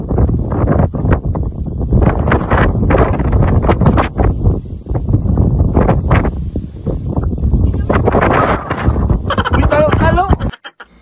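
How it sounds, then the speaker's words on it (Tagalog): Heavy wind on Corregidor Island buffets the microphone in loud, rumbling gusts while a person talks over it. "O diba sa lakas nga ng hangin ay napalid nga ako."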